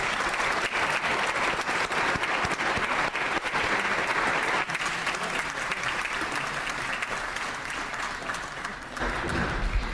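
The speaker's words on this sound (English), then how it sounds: "Let's give our honorees another round of applause as they depart the chamber." Sustained applause from members and guests in a legislative chamber honoring departing honorees, a dense, loud clapping that continues steadily and fades slightly near the end.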